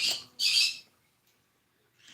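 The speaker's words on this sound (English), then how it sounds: "Pardon my birds. They have opinions and I think everybody needs to hear them." Two loud, harsh squawks from a bird close by, a brief pause, then a fainter squawk starting at the end.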